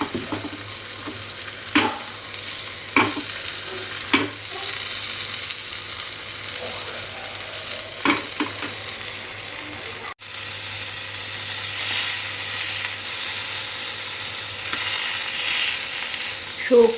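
Pomfret fish frying in ghee and oil in a home kitchen, a continuous close sizzle with occasional clinks and stirring knocks, brief muffled voices early, and the frying growing louder and steadier toward the end.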